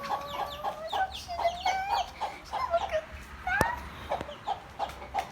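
Chickens cluck softly nearby on a farm with a stream of high chick peeps, repeated short calls in an irregular patter, fairly quiet with a sharp click midway.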